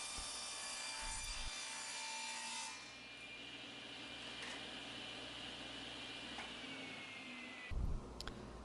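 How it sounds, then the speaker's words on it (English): A table saw rips cedar boards in a workshop, a steady loud whine with wood-cutting noise running for most of the span, easing slightly partway through and ending with a brief thump. "And then I'm ripping them down to some narrower boards on the table saw."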